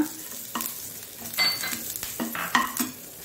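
Curry leaves and grated coconut roast in a pan, with close sizzling broken by several scraping stirs and light clinks of a utensil against the pan. No one speaks.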